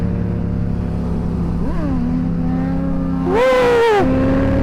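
A Yamaha FZ-07 motorcycle accelerates hard on a highway during a wheelie at about 80 mph, its engine note rising and then climbing sharply in pitch over loud steady wind roar.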